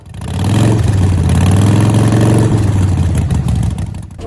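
A loud police motorcycle engine with loud aftermarket pipes idles and revs up close, its deep exhaust throbbing steadily with no voices.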